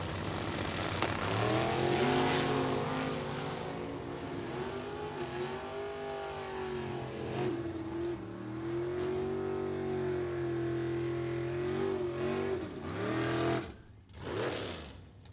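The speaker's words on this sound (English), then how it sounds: "Paired up with Ed Benderowicz Sr., the 66 Chevelle on the right-hand side, who has no shortage of nitrous to purge" Drag racing cars, among them a 1966 Chevelle running nitrous, roar loudly and steadily at a strip's launch, engines droning with rising and falling pitch for many seconds before cutting off near the end.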